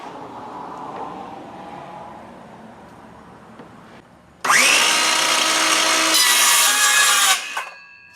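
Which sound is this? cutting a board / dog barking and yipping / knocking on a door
cutting a board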